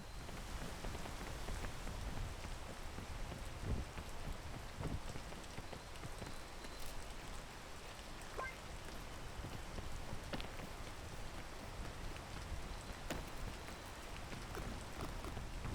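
Steady rain in the video game PEAK, a dense continuous hiss with scattered droplet taps, even and moderately loud throughout with no talking.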